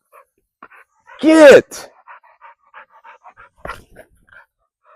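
Rottweiler puppy gives a loud whine and then pants softly in short breaths close by, while someone speaks briefly.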